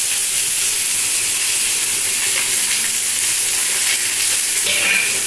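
Chopped onion dropped into hot oil with thinly sliced garlic, a loud, close, continuous frying hiss and crackle with faint stirring.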